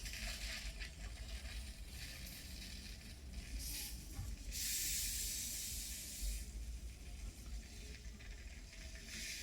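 A large bottle of La Goudale beer is opened with a sustained, loud hissing rush of escaping gas and a brief stronger burst midway. Rough scraping and handling noise from the cap run throughout, heard close and with no talk.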